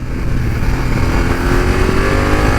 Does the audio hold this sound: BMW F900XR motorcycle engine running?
yes